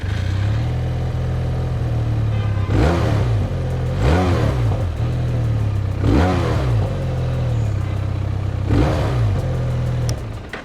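A QJ Motors SRK 400 twin-cylinder motorcycle idles with a steady low thrum and is blipped four times at regular intervals, each rev rising and falling quickly, loud and close, with no talking.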